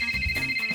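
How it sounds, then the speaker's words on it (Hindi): A mobile phone ringtone in a Hindi children's cartoon, a short steady electronic tone with a pulsing warble, loud and close with no talk over it. "ओए, मोबाइल है, डोरबेल नहीं जो बजाया जा रहा है।"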